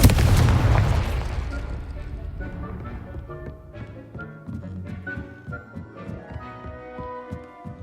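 Confringo, an explosive spell in Hogwarts Legacy, goes off as a heavy boom right at the start and decays into a rumble, followed by scattered thuds and tonal game music.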